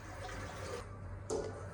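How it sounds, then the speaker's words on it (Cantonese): Water runs from an overhead shower head in a hotel bathroom, a steady moderate rush with a sharper spray burst near the end and no talking. "呢度就係佢哋嘅花灑嘅水力"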